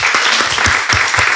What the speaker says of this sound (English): I definitely wanted to give a big round of applause for everybody that's up here